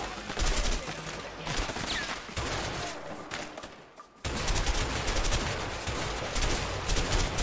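Gunfire in the video game A Way Out, rapid dense bursts of automatic shots with a brief lull partway before the shooting resumes, loud and close, with some voices underneath.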